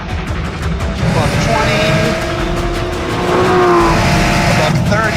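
An Aston Martin V12 Vantage S 7-speed at speed in fifth gear around 110 mph spins its wheels with a loud, continuous engine roar and rising tonal whine, while someone talks over it.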